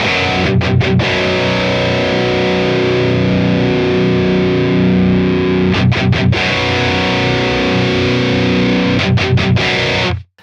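Heavy, saturated electric guitar chugging fills the clip, with sharp palm-muted stops cutting through the sustained drone at a few points, loud and continuous.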